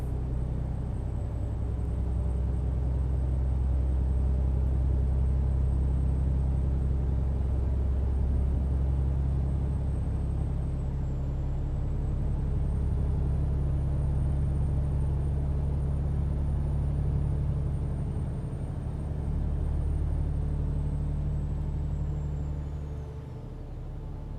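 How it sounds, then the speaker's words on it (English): A Detroit diesel truck engine in a trucking simulator game rumbles steadily and loud, with a low droning tone and a faint high whine, holding for many seconds before easing near the end. "sound of that Detroit whenever you kick it up into the high range when braking"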